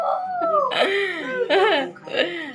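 A voice imitates a wolf howl, drawing out wavering, rising and falling howls up close in a few short bursts.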